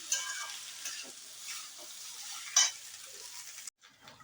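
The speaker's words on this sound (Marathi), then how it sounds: "आता आपण हे बटाटे स्मॅश केलेले याच्यात घालूया आणि चांगलं परतून घेऊया." Smashed potatoes stirred into spices in hot oil, sizzling steadily and close with soft scraping from the stirring, then a brief drop near the end.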